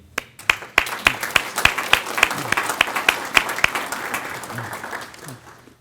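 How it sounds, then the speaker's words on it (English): At a Scouts award breakfast, a room of people bursts into applause, sharp distinct claps at first that thicken into a steady round and then fade out. "I'd like to give you all a round of applause and say thank you"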